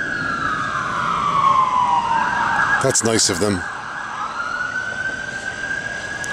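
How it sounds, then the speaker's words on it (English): Emergency vehicle sirens wail from the center of Newark, a steady rising and falling tone over traffic noise, with a brief burst of a person speaking midway. "And distant sirens, they're making us feel at home."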